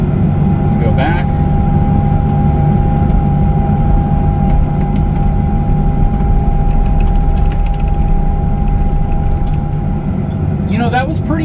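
A John Deere 50G mini excavator with a Raptor Claw bucket digs a trench, its engine a loud, steady, close drone with a constant hum throughout and a few brief clanks near the end.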